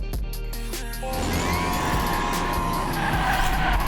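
Generic car engine from the Hot Wheels Unleashed racing game revs steadily and loudly, with tire squeal and skidding layered over the drone after the first second.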